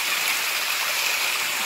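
Spring water pours steadily from a rock in Antigua, a constant bright rushing splash close by with no voices.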